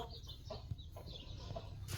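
Hen clucking close by in short repeated bursts, with rustling farmyard background and no speech.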